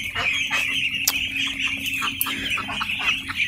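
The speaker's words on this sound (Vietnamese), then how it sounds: "Đàn này đang bị ho hen rất là nhiều, cực kỳ nặng luôn" A flock of sick ducks with coughing and wheezing respiratory illness, caught in the rain on a Vietnamese farm, gives a dense, constant chorus of raspy clucks and squawks, close and loud, with no talking.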